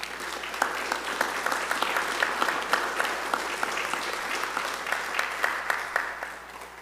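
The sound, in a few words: applause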